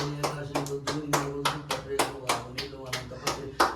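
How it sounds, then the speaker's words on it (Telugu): Hand claps at a Vinayaka Chavithi gathering in a temple, about a dozen sharp claps in a fairly steady rhythm, close and moderately loud, with voices underneath. "ఆయన క్లాప్స్ కొట్టు"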